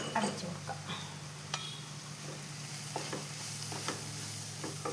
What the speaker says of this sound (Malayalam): അപ്പം നമുക്കെല്ലാം ഒന്ന് ഇളക്കി അടച്ചു കൊടുക്കാം.